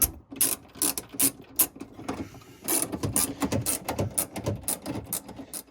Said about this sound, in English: Okay, I stacked up my washers now, and we're tightening these guys up.